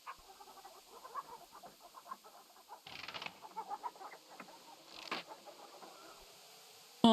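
Chickens clucking from a coop in King's Quest III Redux, a steady run of soft, repeated clucks with a couple of louder flurries partway through.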